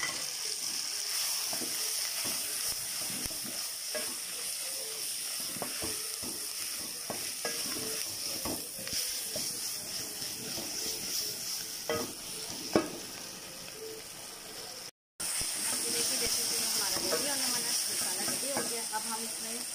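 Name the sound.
frying and stirring spices with onions and tomatoes for keema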